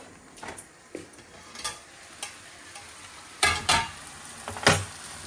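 Carrots and pepper cooking in a pan for Chinese noodles: a faint, steady sizzle under sharp, scattered taps and clinks of stirring, close by, with no talking.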